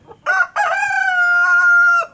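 A rooster crows loudly and close, a single sustained call after a brief clucking start.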